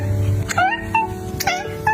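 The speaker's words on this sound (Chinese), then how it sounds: "二、短喵叫" A cat gives several short, rising meows in quick succession, clear and close over a steady low background hum.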